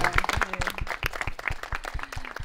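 An audience claps in a steady burst of applause at a radio and internet address special broadcast, crisp individual claps close and fairly quiet, with no talk over it.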